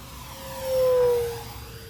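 An electric motor and propeller on a 1700mm RC P-51 model plane pass overhead at speed, a steady whine rising to a loud peak before fading, alone with no voices.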